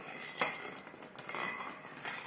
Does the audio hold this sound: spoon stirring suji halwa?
yes